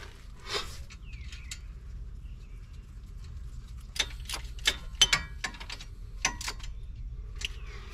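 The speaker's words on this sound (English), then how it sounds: "10mm socket, tighten it down." A 10mm socket ratchet tightens an ABS sensor bolt on a car during a front CV axle replacement, giving short bursts of quick, close metallic clicks over a quiet background.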